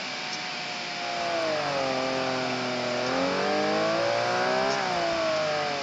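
Race car engine in Forza Motorsport 5 holds a loud, steady whine that climbs, dips on downshifts and climbs again through the gears, with no talk over it.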